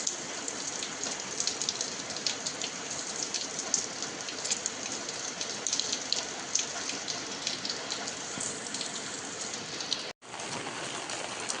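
Steady first monsoon rain in a Konkan village, a dense even hiss of drops pattering on surfaces, close and continuous with a brief dropout near the end and no talking.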